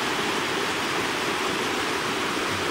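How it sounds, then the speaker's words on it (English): A small waterfall on the river at Piers Gorge in Upper Michigan, a dense, steady rushing roar of falling water, close and continuous without pause. "I found this cool little waterfall right here."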